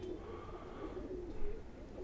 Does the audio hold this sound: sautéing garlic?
no